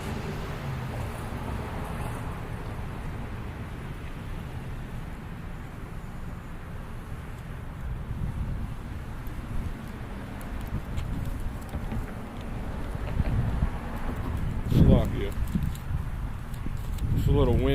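Low, rumbling wind buffets continuously outdoors at a camp in Houston, Texas, gusting louder toward the end, with a voice talking over it.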